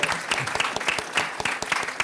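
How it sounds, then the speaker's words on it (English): A short burst of clapping from a modest audience at a panel discussion on prisons, borders and abolition, brisk and close, with uneven individual claps. "Can we clap for you guys?"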